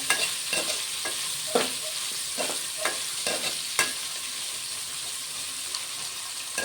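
Mixed vegetable pieces cook in a pan with a continuous, loud frying sizzle, broken by regular scraping stirs of a spatula roughly every second.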